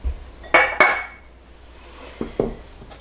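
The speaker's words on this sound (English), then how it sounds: "I'd like to show you how I use my press on the last clove" A metal garlic press squeezing a whole garlic clove in a kitchen, heard as two sharp clicking clanks close together, then a quieter pair of metallic clinks a moment later, with no talking.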